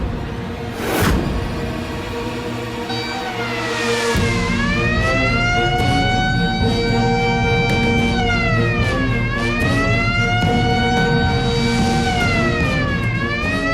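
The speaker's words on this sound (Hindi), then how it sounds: "तब तक किसी ने कैदियों में फरार होने वाला सायरन बजा दिया है।" A prison escape alarm siren wails loudly and continuously, rising and falling in slow, repeated sweeps after a brief burst of noise, with no one speaking.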